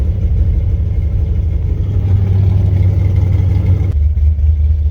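A car engine fitted with ZZ4 heads and cam, 700R4 transmission, 3000 stall converter and 3.73 gears, idling on its own with a loud, lumpy, steady rumble, then settling into a smoother idle near the end.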